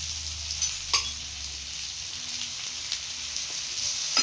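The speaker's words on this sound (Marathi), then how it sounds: "स्टार्टिंगला गॅस थोडा फास्ट करायचा आहे जेणेकरून ते चिटकत नाही आणि साईडने थोडंसं तेल टाकून घ्यायचं आहे." Thalipeeth flatbread fries in a little oil on a hot pan over high heat, giving a continuous close sizzle with a few crisp pops and light clicks. No one speaks.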